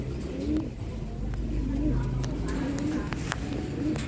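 Racing pigeons coo in soft, repeated low warbles over a constant background rumble and scattered faint clicks.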